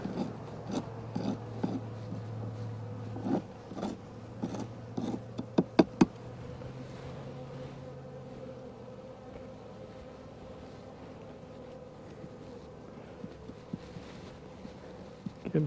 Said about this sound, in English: Come on, bees.